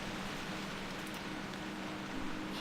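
Rain falling in the World of Warcraft game world, a steady, even hiss of drops that holds at one level throughout with no voices over it.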